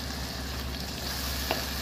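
Tomato curry with chilli powder is stirred in a frying pan, giving a steady close sizzle with a faint scrape of the spoon near the end.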